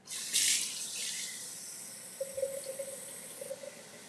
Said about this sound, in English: Let me get some water for the Keurig.